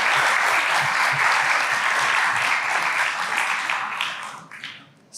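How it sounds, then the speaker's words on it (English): Audience applause for a speaker at a university science cafe evening, a dense sustained round of clapping that holds steady and then thins out toward the end. "So another round of applause for David."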